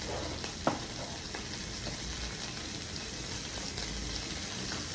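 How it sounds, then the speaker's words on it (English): Oily Russian military combat ration food frying in a pan, a steady, close sizzle with occasional sharp pops of spattering fat, no voices. "Look how it's sizzling"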